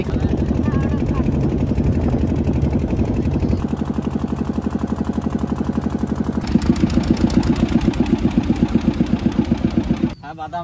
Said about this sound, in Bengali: অনেক অপেক্ষার পর, অনেক ধৈর্যের পর আমাদের নৌকা আগে দিকে রওনা দিয়েছে।